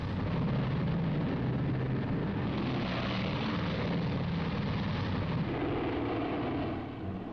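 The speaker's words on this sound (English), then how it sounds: "The last B-29 is airborne at 1540." Four-engine B-29 bomber taking off from Saipan during the final atomic bomb mission, a loud continuous propeller-engine roar sustained throughout and easing slightly at the end.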